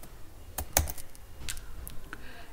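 Typing on a computer keyboard at a Linux terminal: a few sharp, close key clicks spaced irregularly, with softer taps between, quiet room, no talk.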